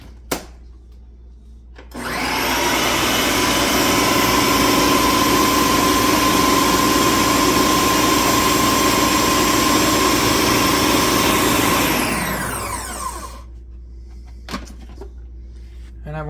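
A Ninja NF701 food processor on puree mode roars up to a loud, steady, high whir that holds for about ten seconds, then winds down and stops, leaving a few faint clicks afterward.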